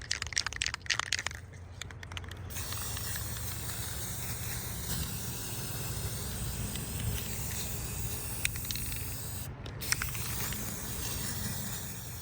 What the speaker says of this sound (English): we're just gonna hit them with some spray paint